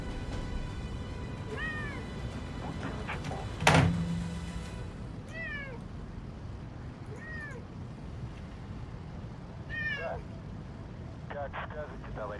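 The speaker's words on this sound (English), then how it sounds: "That was a defeated little meowing sound right there." Cat meows in a war strategy game, several short descending mewing calls spaced through the clip over a steady rumbling background, with one loud thump near the start.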